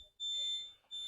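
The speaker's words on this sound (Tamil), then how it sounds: "இது வந்து எந்த கதவை நீங்கள் திறந்தாலுமே உங்களுக்கு வந்து பீப் சவுண்ட் வந்துட்டே இருக்கும்." Door-open warning beep inside a Force Traveller AC T1 nine-seat van: a steady high-pitched electronic tone that sounds continuously, breaks off briefly, then resumes, heard fairly faintly indoors.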